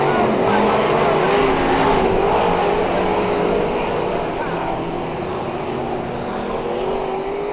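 Speedway bikes roar around a dirt track in a race, a loud continuous engine drone with shifting pitch from several machines, steady throughout.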